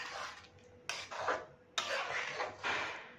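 A spoon stirs dal in a cooking pot, scraping and clinking against the metal in three or four short, close strokes separated by brief pauses.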